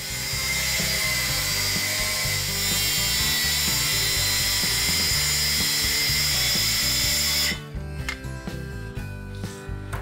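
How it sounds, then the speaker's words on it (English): A circular saw running along a clamped jig rips through 3/4-inch birch plywood with a loud, steady high whine for about seven seconds, then cuts off and spins down. "Then I clamp a jig for my circular saw at that line"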